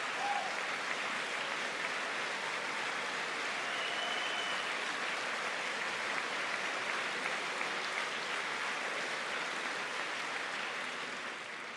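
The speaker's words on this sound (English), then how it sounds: "First Lady's getting a big round of applause," A large chamber audience at the 2020 State of the Union gives the First Lady a sustained standing ovation, a steady wash of distant applause with scattered cheers holding for about twelve seconds.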